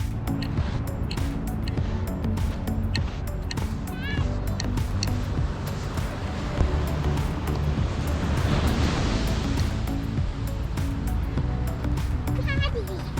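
Ocean surf at a California beach campsite rolls as a constant broadband wash, mixed with wind buffeting the microphone and scattered small clicks and knocks close by.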